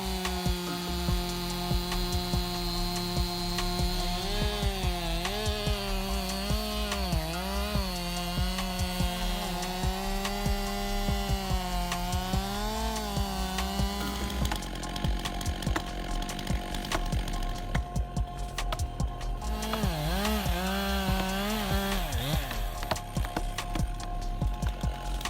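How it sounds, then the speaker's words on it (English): A chainsaw engine drones and revs while cutting through tree trunks, its pitch rising and falling with load over a long continuous stretch, then easing into lower, rougher idling before bogging down again. "This chainsaw was a marvel of engineering, defying all expectations by effortlessly cutting through giant tree trunks at unprecedented speeds"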